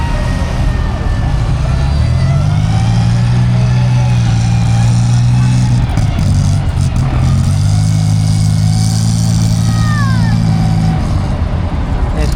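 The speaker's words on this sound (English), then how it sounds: "quad bike" A quad bike drives around an outdoor show arena during a military vehicle display at a rural fair, its engine droning steadily with rising and falling revs amid crowd noise and a voice speaking over it.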